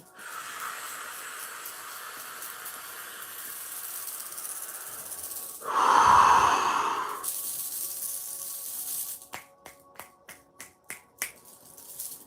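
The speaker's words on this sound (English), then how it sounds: "take a deep breath in" A single deep breath drawn in, a swelling airy rush lasting about a second and a half, followed by a series of sharp finger snaps.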